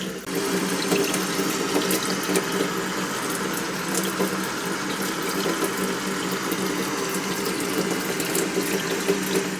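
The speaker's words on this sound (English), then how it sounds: "So I'm running the water right now." Steady close rush of tap water running through a newly installed faucet water filter into a kitchen sink, continuous and even with no voices.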